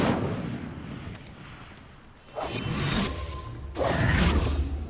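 Incendio fire spell cast in Hogwarts Legacy: two loud whooshing bursts of flame with a heavy low rumble, each swelling suddenly over quieter game ambience.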